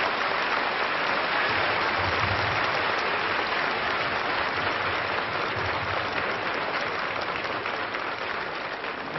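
A theater audience applauds guest of honor Sophia Loren in the hall, sustained dense clapping that stays loud and even for the whole stretch with no break.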